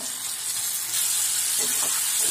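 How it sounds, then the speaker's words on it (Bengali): Mixed vegetables for a Bengali five-vegetable sabji fry over medium heat, producing a continuous close hiss and sizzle that swells slightly partway through, with no one speaking. "মিডিয়াম আঁচে আরেকটু ভেজে নেব"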